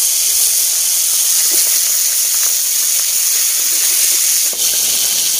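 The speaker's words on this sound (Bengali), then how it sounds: "আমি মাছের মাথাটা আগে ভেজে নেব।" Fish head frying in a hot wok after mango pieces, a loud continuous hissing sizzle held steady throughout, close by and without voices.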